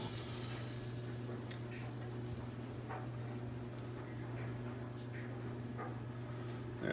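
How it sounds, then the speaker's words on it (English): Butter melting in a frying pan gives a soft, steady sizzle with faint occasional ticks and pops, quiet and close, with no talking. "the butter's looking pretty well melted now, so I'm going to lower the heat"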